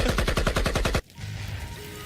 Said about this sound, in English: It's a good thing I have my good old AK-47 with extendo mags.